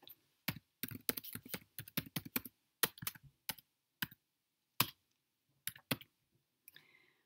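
Quick bursts of soft computer keyboard key clicks as a spreadsheet formula is typed, irregular clusters with short pauses, close and fairly quiet.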